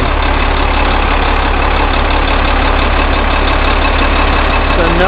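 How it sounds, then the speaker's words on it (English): A diesel engine idles steadily after warming up, a loud, constant low rumble that fills the whole clip without pause. "once it warms up, it's a pretty clean running diesel"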